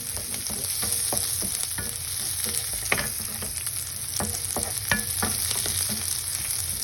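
Ingredients for beef afritada with pineapple fry in a pan until golden brown, a loud, close, continuous sizzle broken by regular scraping strokes from stirring.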